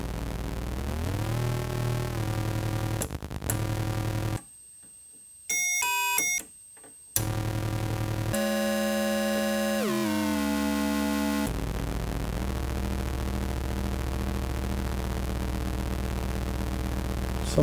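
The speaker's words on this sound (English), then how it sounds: "So we'll use the imp noise generator, and we'll send that to this channel of the mixer." Synthesized tones from an imp noise generator routed into a mixer channel, shifting through buzzy harmonic drones, bright bell-like chiming bursts and a sweeping pitch drop, loud and continuous apart from two brief near-silent gaps.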